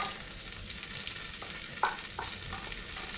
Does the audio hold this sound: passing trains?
no